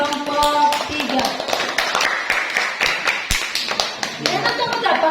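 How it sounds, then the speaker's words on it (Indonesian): A classroom group applauds a presenting group with close, crisp, irregular hand claps at a fairly loud level, overlapping a voice that keeps talking. "tepuk tangan untuk kelompok 3"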